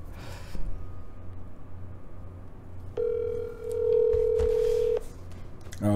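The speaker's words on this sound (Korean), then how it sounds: "지금 전화 연결을 좀 해드릴게요." A telephone call is placed to connect to a broadcast reporter: after a quiet stretch, a steady ringback tone sounds for about two seconds and then cuts off, with no talking over it.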